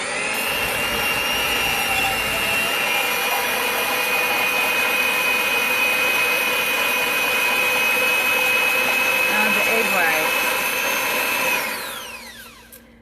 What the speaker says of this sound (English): So let's froth these eggs up.